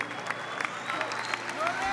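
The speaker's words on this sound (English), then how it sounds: "Let's put our hands together for Jesus!" A church congregation applauds, a dense patter of many hands clapping under loud speech from a preacher with some crowd noise.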